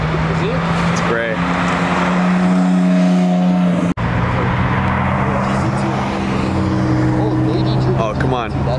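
Porsche GT3 launching hard at a cars and coffee meet, its engine rising loud and close with a sharp gear shift midway, while bystanders talk excitedly over it.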